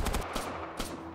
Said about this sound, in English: There's gunfire going off downstairs.